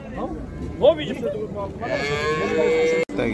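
Cattle at an open livestock bazaar low and moo close by, one long drawn-out call near the end, with other animal calls and crowd murmur in the background.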